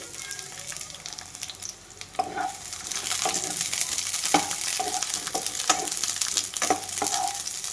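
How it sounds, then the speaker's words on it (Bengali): Eggplant pieces frying in oil in a kadai, a close, rising sizzle with repeated scraping and tapping of a spatula as they are stirred and turned. "এই তেলেই আমি বেগুনগুলো ভেজে নেব।"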